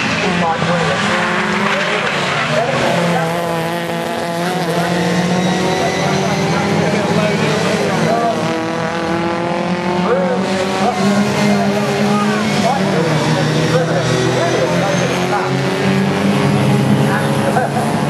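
Race cars at Snetterton in 2010 sweep into Coram Curve, engines droning and shifting pitch continuously for the whole stretch, loud and close, with a commentator talking over them.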